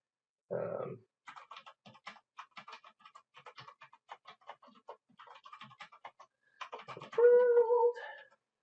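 Light, irregular key taps from typing code on a computer keyboard, scattered in quick bursts, with brief speech-like sounds at the start and a louder voiced sound near the end.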